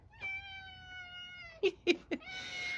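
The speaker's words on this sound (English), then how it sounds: "Do you guys hear my cat?" A cat meows several times close by, a long drawn-out cry followed by three short yowls and another sustained meow, with no talking.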